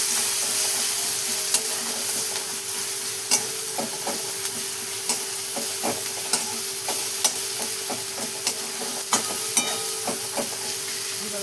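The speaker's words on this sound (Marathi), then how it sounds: "थोडीशी हळद आणि थोडासा कांदा मसाला टाकूया आणि छान असं मिक्स करून" Onion masala with turmeric and red chilli powder fries in a pan and is stirred, a constant loud sizzle broken by repeated scraping strokes of a spoon at an irregular pace.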